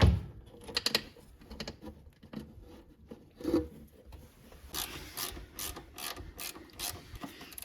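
A ratchet spanner clicks away in quick bursts on the wiper motor of a Vauxhall Mokka, close up with light mechanical rubbing, then a steadier run of sharp ratcheting strokes toward the end.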